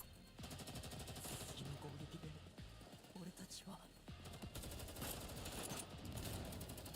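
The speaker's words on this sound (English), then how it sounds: "more gunshots and explosions resound beyond the fortress" Rapid bursts of gunfire crackle and pop over a busy background, with several volleys and a brief lull, from combat beyond a fortress in the video game Girls' Frontline 2: Exilium.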